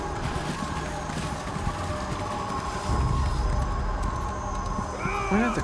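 Horse hooves clip-clop steadily in Elder Scrolls Online, a continuous run of hoofbeats close by under a dense game soundscape, with a brief rising whinny-like call near the end.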